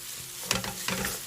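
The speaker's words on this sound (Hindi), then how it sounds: "अभी हम इसमें भिंडी डालेंगे।" Okra tossed into softened tomatoes frying in a pan, a steady soft sizzle with two brief bursts of stirring and scraping near the middle, close and alone.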